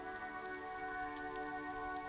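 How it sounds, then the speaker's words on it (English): Steady rain ambience in the video game Disco Elysium, a soft continuous patter with a low constant hum underneath, no voices. "Stuck in the rain in a traffic jam"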